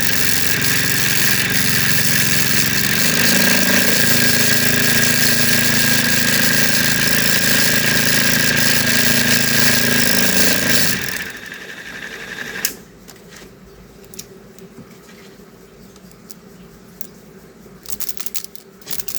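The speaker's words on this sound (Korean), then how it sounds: "안에 쇠구슬을 제가 넣어놨거든요. 그래서 구슬 들어가는 소리가 같이 들리네요." A vortex paint mixer shakes a bottle of enamel paint with a steel ball inside, a loud, rapid buzzing rattle with the ball clattering that runs steadily, then stops abruptly, leaving quiet handling noises.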